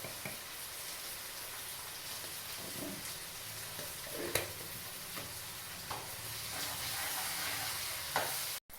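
Steady sizzling of tomatoes frying in a pan with turmeric, with occasional stirring scrapes and small pops, continuous and close throughout.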